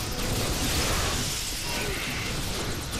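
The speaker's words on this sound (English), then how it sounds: "A lot of explosions going on." Chaotic explosions and crashing bursts in Ghostbusters: The Video Game, loud and continuous, layered with rumbling mechanical clatter and no clear talk.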